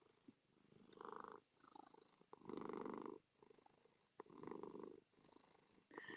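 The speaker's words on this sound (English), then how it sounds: "Yeah, he's a little loud with the purr." A cat purrs close by in rhythmic bursts, each breath cycle a loud rumbling buzz separated by brief quiet gaps, repeating several times.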